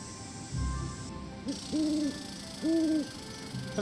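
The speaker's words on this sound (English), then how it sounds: "An owl during the day?" An owl hooting in Nancy Drew: Ghost Dogs of Moon Lake, with two or three clear, mid-distance hoots in a slow, spaced rhythm over quiet outdoor ambience.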